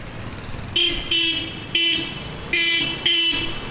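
Car horns toot in five short bursts on a quiet Saigon street, loud and fairly close, with faint traffic rumble between the honks and no talk over them.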